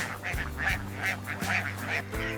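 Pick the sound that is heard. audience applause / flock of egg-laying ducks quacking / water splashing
flock of egg-laying ducks quacking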